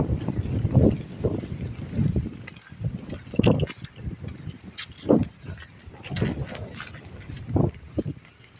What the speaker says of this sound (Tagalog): Ay, sarap ng hangin.